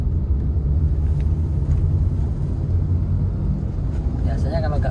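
A manual car pulls away in second gear after a traffic light turns green during a driving lesson, giving a steady, dense low engine and road rumble throughout with no clear rise in pitch.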